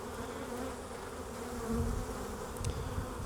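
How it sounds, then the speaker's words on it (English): Honey bees buzz steadily in a dense, continuous drone as they are shaken off a brood frame during a spring swarm-prevention hive inspection, with a brief higher tone near the end and no talking. "I'm shaking the bees off."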